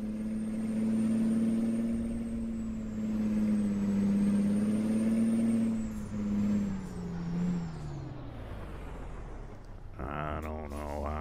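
A truck engine in American Truck Simulator drones steadily and loudly as the rig backs up, its pitch rising and falling slightly, then settles before a short air-brake hiss and a rattle near the end.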